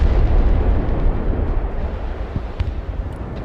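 A massive friendly-fire explosion from an Su-34 bomber in the video game Broken Arrow, a deep rumbling blast that rolls on and slowly fades, with small crackles and pops scattered through it.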